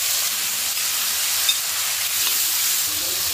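Chopped tomatoes hit hot oil with finely cut chilli and ginger in a pan, giving a steady bright sizzle and hiss that carries evenly throughout, with a small pop near the middle and no talking.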